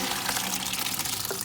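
Soaking water from dried beans pouring and splashing steadily, a continuous rushing stream close by as liquid drains out.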